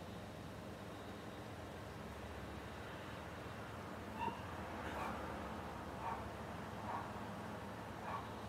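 A dog makes a few faint yips and whimpers against a steady hiss of background noise, with the short sounds spaced out in the second half of the clip.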